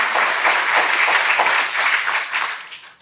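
Audience applause at a State of the City address, a dense burst of clapping that swells and then gradually fades out over a few seconds.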